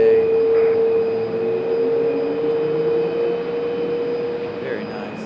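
A Republic Airways airliner rolls past at Raleigh-Durham International Airport, a steady engine roar with a sustained tonal whine holding throughout, fairly loud and constant, with some talk in the background.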